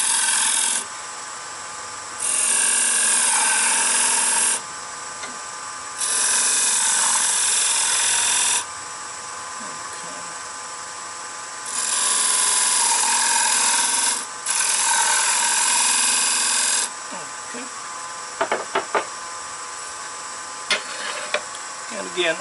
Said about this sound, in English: I'm going to chamfer the edges of the wheel.